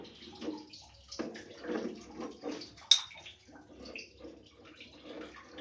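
Water runs in an uneven, gurgling trickle from the opened outlet of an electric water heater, fairly faint, with a sharp metallic clink partway through.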